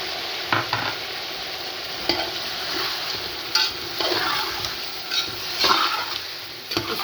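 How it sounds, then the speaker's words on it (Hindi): Chicken fries in a pan with ginger garlic paste for spicy biryani. A steady, close sizzle runs throughout, with several scraping, clattering stirs of a spoon against the pan. "इसको मैं अच्छी तरह फ्राई करती हूँ और इसका पानी खुश्क हो जाए"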